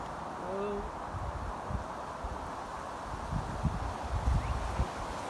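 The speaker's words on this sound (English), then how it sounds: "It's too windy to climb trees today." Steady wind rushes and roars through trees, with gusty low rumbles buffeting the microphone and occasional faint rustling.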